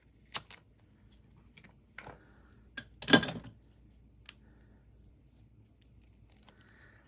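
A few sharp, crisp snips and clicks spaced irregularly, with one longer rustling cut in the middle, close by and otherwise quiet.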